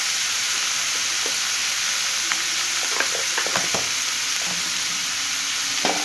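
Cauliflower with salt and turmeric sizzles in a pan under a constant hiss. Scattered spatula scrapes and clicks from stirring cut through it, with no voices.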